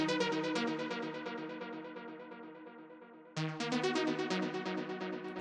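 A big techno synth lead plays a run of repeated bright plucked notes, fading slightly before a fresh, louder phrase kicks in; it is heard alone, with no other instruments prominent.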